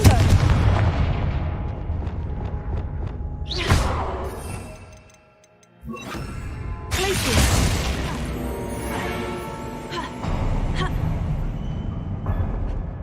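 Blasting curse explosions in the video game Hogwarts Legacy, several loud booming blasts with crackling debris and a brief lull midway, dense and close throughout.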